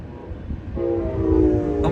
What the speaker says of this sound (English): Oh my God, that train just missed him.